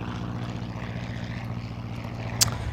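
A SimCity airplane drones steadily overhead, its propeller engine hum low and continuous throughout, with a brief sharp chirp near the end.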